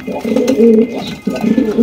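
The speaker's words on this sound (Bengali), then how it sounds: "একদম বিগ সাইজের কোয়ালিটি ফুল বাগদাদি কবুতর দেখেন।" Large, good-quality Baghdadi pigeons at a pigeon sale coo loudly and close by in two repeated throaty rolling phrases.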